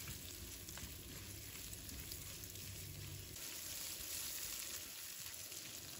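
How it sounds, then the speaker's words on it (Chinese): Carrot and green pepper stir-fry in a wok with a soft continuous sizzle and faint tossing sounds, heard close but quiet and unbroken, with no speech. "继续给它翻炒均匀。"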